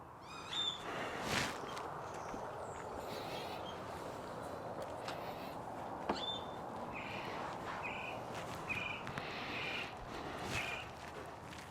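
Several birds call outdoors, with repeated short chirps and whistles over a steady rustling background, one owl-like hoot standing out among them.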